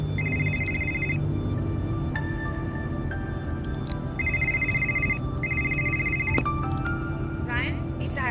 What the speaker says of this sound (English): I bet that's our contact, Iris. Can you grab the phone for me?